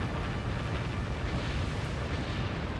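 61cm naval cannons firing in Warship Gunner 2 merge into one continuous, loud, low rumbling roar that never breaks into separate shots.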